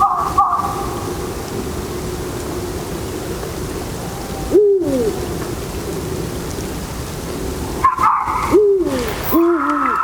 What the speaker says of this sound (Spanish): la época de celo del búho real, y los gritos de los zorros en celo también a lo lejos